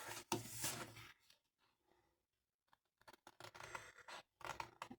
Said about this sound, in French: On va se munir d'un ciseau. Hop, et on coupe.